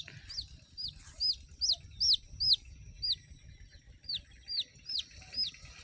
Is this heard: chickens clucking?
yes